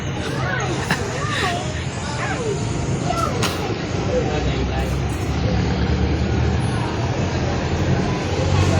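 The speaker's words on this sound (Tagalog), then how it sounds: "Dami din talagang sasakyan, no?" A busy street beside a market in Tanauan City, Batangas, with many cars and buses rumbling past close by and a horn or brake squeal now and then. People chat over the steady traffic roar.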